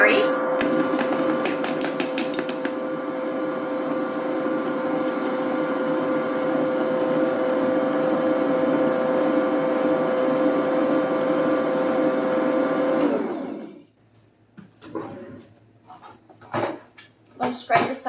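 An electric mixer whirs steadily while beating butter for a strawberry gelatin cake, running loud and constant for about thirteen seconds before stopping, followed by scattered clinks and scraping in the bowl.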